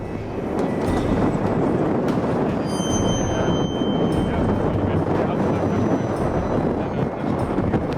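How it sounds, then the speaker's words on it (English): Strong desert wind during a sandstorm roars as loud, steady broadband rushing that buffets the microphone for the whole stretch, with no pauses. "the wind has picked up very dramatically"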